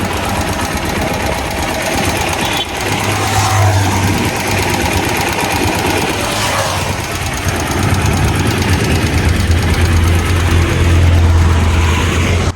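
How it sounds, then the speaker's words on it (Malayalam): A second-hand Bajaj Pulsar 150 motorcycle engine runs close by at a steady idle, with a loud, continuous chugging and knocking rumble throughout and no talking. "അപ്പോൾ ഈ ഒരു വണ്ടീൻ്റെ നോയ്സ് കേട്ടോളി"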